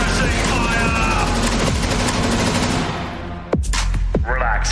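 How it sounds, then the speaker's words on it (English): Sustained suppressing gunfire in a Counter-Strike esports match, a dense continuous burst of automatic shots that fills the first few seconds, then breaks into a couple of sharp separate cracks. "Suppressing fire!"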